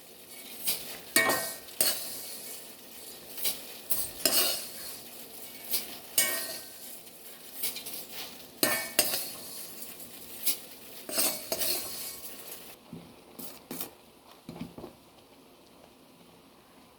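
Fried vermicelli (semiya) is stirred into a pot of boiling water for upma, with repeated metallic scrapes and clinks of a spoon against the pot and a soft bubbling underneath, close and fairly loud, without talk.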